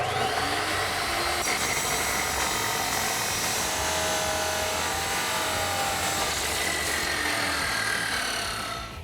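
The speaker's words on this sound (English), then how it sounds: "we can take it over to our saw and make our cut" A power saw cuts through a 4-inch steel exhaust pipe for a 2011-2016 Ford F-250 Super Duty, a loud, steady, continuous grinding whine running unbroken for the whole stretch.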